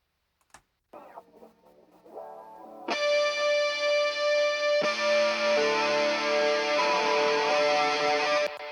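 Electric guitar played through heavy shoegaze distortion builds from sparse plucked notes into a loud, wide, sustained wash of fuzzy chords with shimmering, chorus-like texture and no voices.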